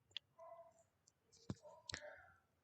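A few sharp, quiet mouse clicks on a computer submit button, spaced apart, with faint breathy voice sounds between them.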